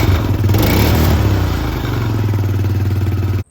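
An Arctic Cat 400 ATV engine runs after an exhaust repair, loud and close, a brief rev that settles into a steady, pulsing idle with some clatter before it cuts off abruptly at the end.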